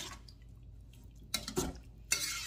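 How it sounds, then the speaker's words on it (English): Spoon stirring bacon grease in a pot for a chicken pie country supper, with a few clinks and scrapes against the pot, close and fairly quiet with no talking. "I'm going to give it a stir."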